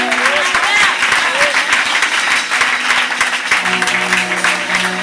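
A church congregation claps and cheers in loud, sustained applause, dense and continuous throughout, with voices calling out over the clapping.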